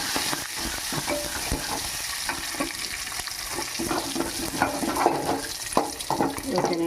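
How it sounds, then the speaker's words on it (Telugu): Crushed raw garlic cloves sizzling in tempering oil with curry leaves for Andhra tomato dal, a steady close frying hiss with scraping stirs and clinks of a spoon against the pan. "ఇదిగో ఎల్లుల్లిపాయలు 2 రెబ్బలు పచ్చిగా దంచుకొని వేసుకున్నాను"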